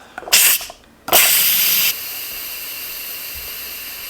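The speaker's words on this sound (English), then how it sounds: "I'll scoot it up just a little bit to release the steam" Steam blasts from a pressure cooker being released manually: a short loud hiss, a brief pause, then a longer forceful spray that drops to a softer, steady hiss.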